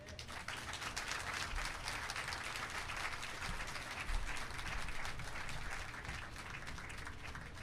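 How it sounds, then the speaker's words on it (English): An audience at a Jamaican ceremony honouring service to education applauds the Prime Minister, giving sustained, fairly faint clapping from a crowd that continues evenly for several seconds. "Another round of applause for the Prime Minister, please."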